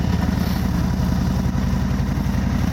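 A Harley-Davidson Road King fitted with an S&S muffler idles steadily, its low, even engine pulse thumping loud and close without pause, with no voices over it.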